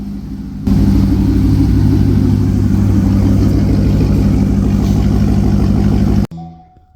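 A C6 Corvette drift car with a fresh battery fires up and holds a loud, steady high rev for several seconds, then cuts off abruptly and winds down.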